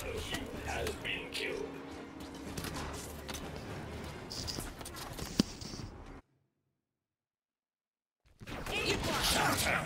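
Gunfire in Halo 5: Guardians rattles in rapid bursts amid game effects, moderately loud under players talking, dropping to silence briefly before the action resumes.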